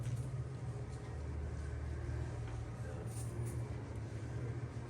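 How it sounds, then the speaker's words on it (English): Low, steady engine rumble of a vehicle pulling up outside a pioneer blacksmith shop, moderately close and continuous, with speech present alongside. "I hear my boss driving up"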